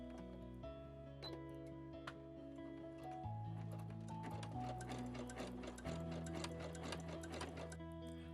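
A home sewing machine runs a zigzag stitch along raw fabric edges, its rapid mechanical ticking and whirring continuous and close throughout, with shifting motor tones as the speed changes.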